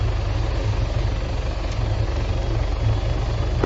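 Helicopter engine and rotor drone in the military simulation game Arma 3, a steady, loud, continuous low throb with a rhythmic beating pulse, no voices.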